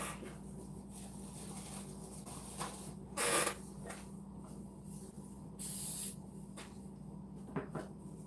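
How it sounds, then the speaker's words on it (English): A handheld spray bottle mists a cup: two short, close hissing bursts a couple of seconds apart against a quiet room background. "Okay, I sprayed the cup a little bit."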